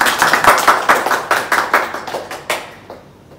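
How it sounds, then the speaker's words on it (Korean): A church congregation claps together in a steady rhythm, close and loud, with about a dozen sharp beats that thin out and fade toward the end. "수업을 하고 있는 우리 자녀들을 축복하는 박수를 특별히 했으면 좋겠습니다."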